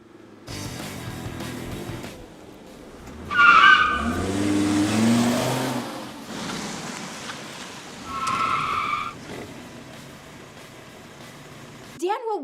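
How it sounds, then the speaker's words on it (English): A car skids, with brief squeals of tire on road, before crashing into a parked black Jetta, over a low rumbling background with quiet stretches between bursts of sound. "I hit a parked car, a black Jetta."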